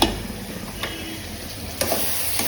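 Meat simmers in a pot on a home stove for a simple curry, a steady close sizzling and bubbling hiss with a few faint clinks from utensils.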